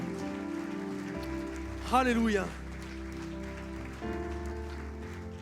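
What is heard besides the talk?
audience applause in church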